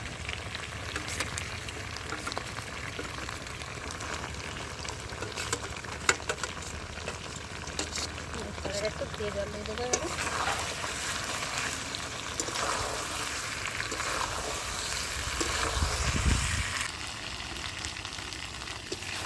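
Meat sautéed with ground cumin paste in a pan over a village cooking fire, a dense continuous sizzle and hiss with occasional stirring scrapes, moderately loud throughout.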